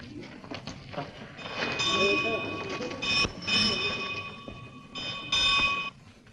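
A train at a railway station is heard faintly, with ringing bell-like tones and rumbling, while people talk in the foreground.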